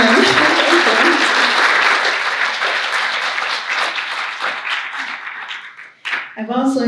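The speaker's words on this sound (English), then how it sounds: "I'd like applause for Cheryl Ann and for Diane." Audience applause at an afternoon poetry event honoring a departing poet laureate, steady dense clapping that fills the room and slowly thins, with a voice starting to speak near the end.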